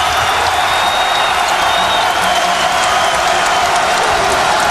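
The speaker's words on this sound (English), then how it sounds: "Crowd appreciates the Hoosiers' effort here, especially at the offensive end" Crowd at a 2009 college basketball game between Michigan State and Indiana applauding and cheering, a loud, constant roar of clapping and voices filling the arena with no break.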